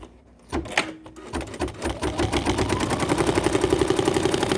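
A BERNINA embroidery machine starts up after a few clicks and settles into a fast, steady mechanical stitching rhythm, sewing circles that hold craft text fabric in the hoop for a coaster.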